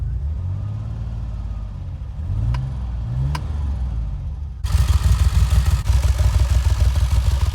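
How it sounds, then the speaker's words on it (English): A 1982 DeLorean on a test drive, its engine idling and rising in short revs, then pulling away into a louder steady rumble of driving with road noise. "In real life, the car sounds a lot better."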